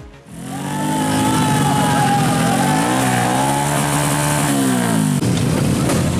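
Several motorcycle engines revved hard by students crowding a school front yard, a loud sustained roar with rising and falling throttle sweeps, close by and continuous after a brief start.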